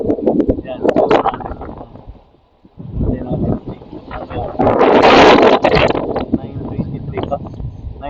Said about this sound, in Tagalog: Lakas ng hangin yan.